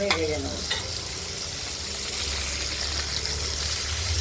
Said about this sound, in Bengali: একটু হালকা লাল করে আমরা পটলগুলোকে ভেজে নেব।